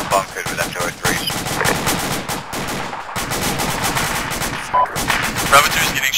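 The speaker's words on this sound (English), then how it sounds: "Bravo 2 is getting shot at from the west." Rapid bursts of automatic and single-shot gunfire in an Arma military simulation battle, dense and loud throughout, with radio voices talking underneath.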